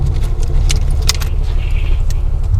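Loose coins rattle and jingle in short bursts in a V6 Mustang's console against a steady low engine rumble, up close.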